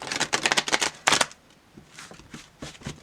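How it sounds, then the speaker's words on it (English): Large, stiff new tarot cards being shuffled, giving a rapid flurry of riffling snaps followed by a sharp burst and then softer, slower shuffles, close up and with no voices. "they're extremely difficult to shuffle at first"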